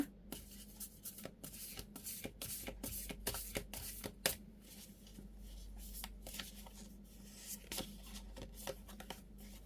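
Oracle cards are shuffled by hand during a reading, a quiet, close run of soft riffling flicks and brushing slides repeating steadily throughout.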